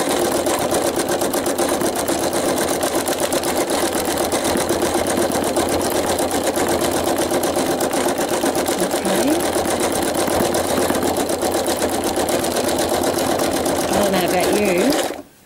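A sewing machine stitches loudly and continuously across a crease in fabric for roughly fifteen seconds, running alone until it cuts off abruptly at the end.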